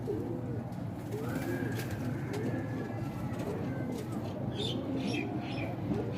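A black-faced pigeon coos in a slow, repeating series of low, rolling calls over a steady background hum, close by and without talk.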